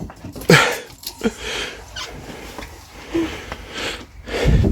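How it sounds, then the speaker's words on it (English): An Arctic fox sniffs around a room close to the microphone, giving quick short snuffs and breathy bursts with soft shuffling between them. "There's an Arctic fox in my room."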